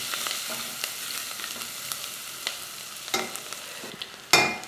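Two large garlic cloves fry in a pan with a soft, steady sizzle, broken by small crackles and pops and a louder stirring scrape near the end.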